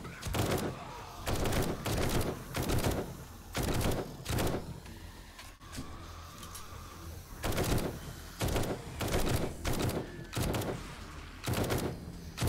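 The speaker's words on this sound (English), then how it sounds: "let's go to the tactical assault rifle. Does little burst shots" Tactical assault rifle in 7 Days To Die firing short bursts, loud sharp volleys repeating every second or so with brief gaps between groups.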